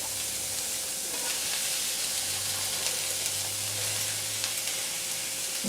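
Onions and garlic sizzle steadily in a hot pan for pasta primavera with squash, a continuous frying hiss with faint scraping as they are stirred, alone without talk.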